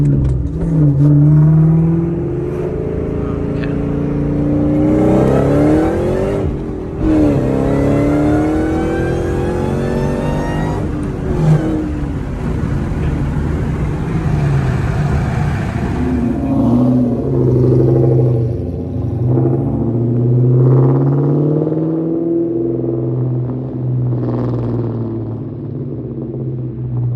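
2003 Ford Mustang Cobra Terminator with a 2.65L TVS supercharger and Borla Stinger exhaust, captured from inside the cabin: a loud, deep engine rumble that climbs through several revving accelerations with supercharger whine, then settles to a burbling drone.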